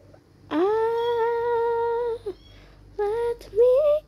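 A domestic cat meows up close in a quiet room, first one long drawn-out cry, then two shorter, rising calls.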